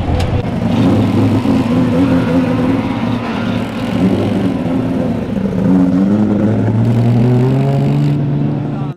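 Race cars roar and accelerate through a heat race at the T-Bar Nationals, engines rising and falling in pitch as they pass, loud and continuous with overlapping exhaust notes.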